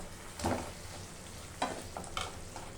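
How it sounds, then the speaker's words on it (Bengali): Potato pieces sautéed with spices and ground coriander in a pan for aloo dum, a faint background sizzle broken by three sharp scraping stirs of the spatula. "আলুগুলো দিয়ে একটু কষে নেব"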